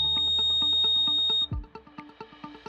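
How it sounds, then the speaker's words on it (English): An RKI SDM 6000 standalone gas detector calibration station runs an alarm check: a steady high electronic tone holds for about a second and a half, then gives way to a series of short repeated beeps, loud and close. "Right now it's doing an alarm check"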